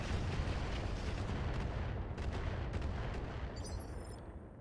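Mech weapons in RogueTech, a BattleTech mod, unload in a dense sustained roar of cannon and missile fire, heavy and continuous, with scattered sharper impacts, fading slightly toward the end.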